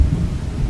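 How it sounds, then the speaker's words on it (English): Heavy rain and a low thunder rumble in the video game Beautiful Desolation make a brief, loud, dense roar with no speech. "Jeez, this rain is bucketing down now."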